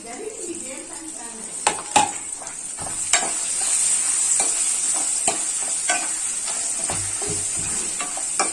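Green chilies and dried red chilies frying in oil for pulihora, giving a bright continuous sizzle broken by sharp clinks and scrapes of a spoon stirring against the pan.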